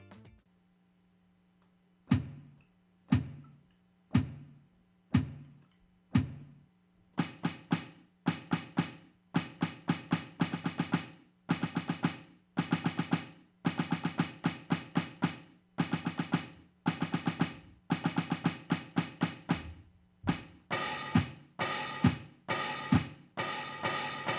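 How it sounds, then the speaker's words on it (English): Sharp hi-hat hits from a DED 200 MAX electronic drum kit, played with pedal and sticks: first spaced chicks, then rapid rhythmic patterns of closed and open cymbal strikes with no talking. "when you combine both the foot and playing the hi-hat, you can capture sounds like this"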